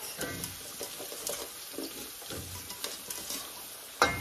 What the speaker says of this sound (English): This is the zucchini. I'm going to put this in the pot.